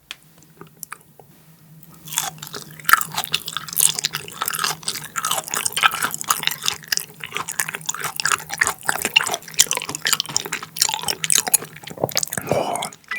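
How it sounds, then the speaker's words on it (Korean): Raw butterfish belly sashimi eaten close to the mic: after a quiet start, wet, soft chewing and smacking sounds run steadily with small slurps, ending in a brief louder smack. "뱃살 한번 먹어볼게요"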